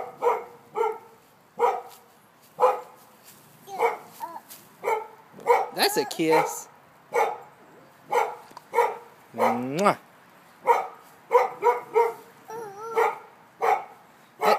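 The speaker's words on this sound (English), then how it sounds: "That dog is really barking." A dog barks repeatedly and close by in a home, with sharp barks at a fairly regular pace across the whole stretch, while an adult talks to a small child between and over the barks.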